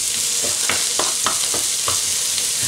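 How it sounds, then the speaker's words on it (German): Onion hitting hot oil in a pan for a dumpling soup, a bright continuous sizzle with crisp crackling pops and a few stirring scrapes, close and loud with no talking. "das Öl ist jetzt heiß und als erstes kommt natürlich die Zwiebel rein. Und wird kurz angebrutzelt."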